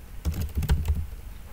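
Quick run of computer keyboard keystrokes as a folder name is typed, a short burst of close, crisp clicks with no talking.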